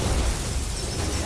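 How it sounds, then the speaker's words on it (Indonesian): A huge, continuous roaring blast rumbles through the whole short stretch, dense and loud with heavy low-end power, as a spiritual explosion in an animated fantasy series. "Dan dia pun langsunglah mengakhiri ini semua dengan ledakan spiritual yang begitu besar."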